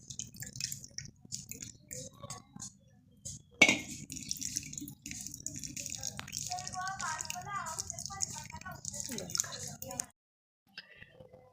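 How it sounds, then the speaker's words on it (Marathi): Tamarind water pours and trickles through a strainer into a pot of boiling masoor lentils, with dripping and soft splashes, briefly broken by a sharp clink, then a sudden stop. "गाळणीच्या साह्यानं चिंचाचं पाणी ओतून घ्यायचं आहे डाळीत"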